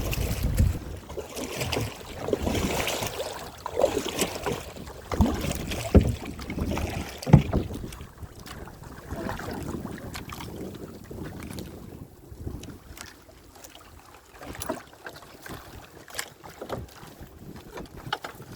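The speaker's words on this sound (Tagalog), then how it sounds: "si Katunying nananagwan" A wooden fishing boat paddled with oars at sea while a reef net is hauled: soft irregular water splashes and knocks under steady wind noise, louder at first, then fading toward the end, with no speech.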